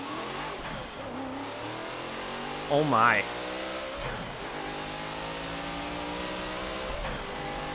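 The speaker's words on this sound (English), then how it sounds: "This car sounds insane." A race car engine in Forza 7 revs and climbs through the gears with a loud, steady roar and rising pitch; a voice briefly exclaims in the middle.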